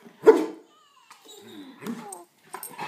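Nearby, a dog excited by bubbles lets out one loud bark, followed by softer whines and yips amid quieter voices.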